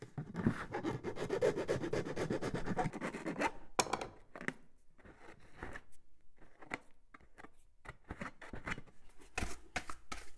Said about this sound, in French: Limez les trous afin de bien noter les bavures